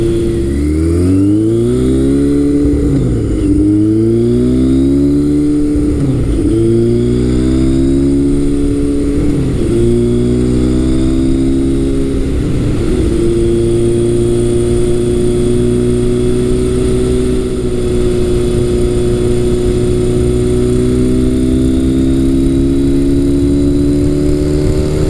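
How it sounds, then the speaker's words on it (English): A Kawasaki motorcycle engine revs repeatedly with a deep, throaty aftermarket Kerker exhaust, rising and falling several times before settling into a long sustained pull, loud and close. "It sounds really good too with the Kirker exhaust."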